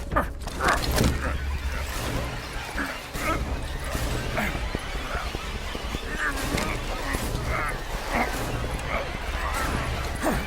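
A dog in Call of Duty Black Ops Cold War barks and yips in several sharp bursts over a steady low background rumble, fairly close and moderately loud.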